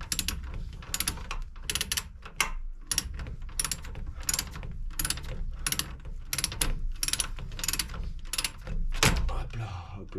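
A ratcheting wrench clicks steadily while 18 mm bolts are tightened to torque on a Dacia Duster, a fast run of sharp metallic ticks close up with faint background noise.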